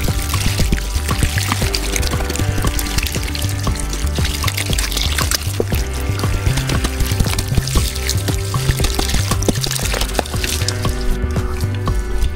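Water is poured onto cocopeat in a backyard garden, a steady splashing and squishing trickle that runs throughout, with a rhythmic bass-heavy music track playing underneath.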